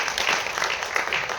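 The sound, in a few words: audience applause for two actors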